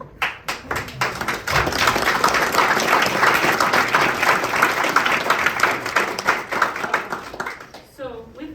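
At a village board meeting, the audience applauds two long-serving Oakwood police officers with loud, sustained clapping from many hands. It swells after a few scattered claps and tapers off at the end, where a voice begins.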